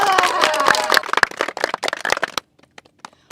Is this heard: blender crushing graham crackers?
no